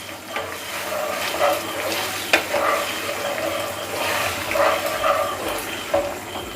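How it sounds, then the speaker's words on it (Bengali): Chicken legs frying with soy sauce while being stirred, giving a moderate sizzle with wet, watery bubbling and intermittent scraping, plus one sharp utensil clink partway through. "এবার ভালো করে মিশিয়ে নেব।"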